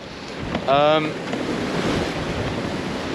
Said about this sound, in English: And with that came sort of 28 knots of wind we're at right now. Big waves.